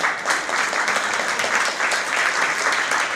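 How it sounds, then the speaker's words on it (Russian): A concert hall audience gives a soloist a loud, sustained ovation of many hands clapping together, dense and continuous with a slight rhythmic pulse and no talk over it. "Я хотела, чтобы мы его поприветствовали бурными овациями."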